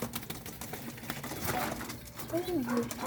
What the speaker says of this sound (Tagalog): Grabing balyahan mga kalapatids